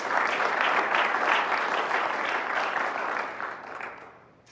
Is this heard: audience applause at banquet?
yes